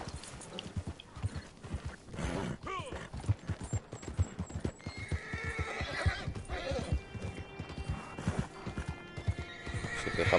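Horse galloping in the Red Dead Online video game, a steady clip-clop of hooves with whinnies and snorts from a tired horse, close and continuous under a voice.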